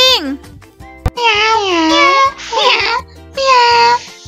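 A voice imitates a cat with three drawn-out, loud meows, close by and separated by short pauses.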